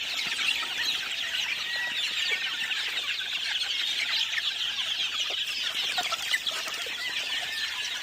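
A flock of about 200 banded gamefowl chickens clucks and chatters together in a dense, steady, overlapping din, close and continuous with no talk.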